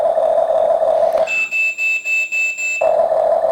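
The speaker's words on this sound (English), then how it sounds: "you could hear some beeping when you finish turning on the controller" A Huina 1/12 scale RC excavator controller gives a series of five short, clear electronic beeps as it powers on, interrupting a steady background hum that resumes afterward.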